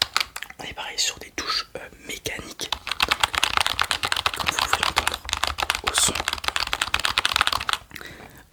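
Rapid typing on a computer keyboard with LED backlighting, a dense stream of close, crisp key clicks in quick irregular bursts, accompanied by soft whispered speech throughout.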